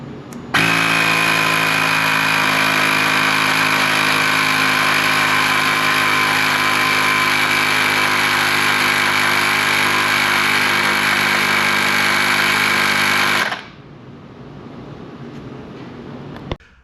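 Electric tire pump inflating a car's front tire, a loud steady mechanical buzz that runs for about thirteen seconds and then cuts off into quiet background hum.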